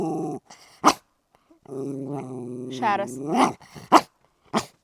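A dog growls in a long rising rumble that climbs into a whine, then lets out several sharp barks, with a person speaking briefly in between.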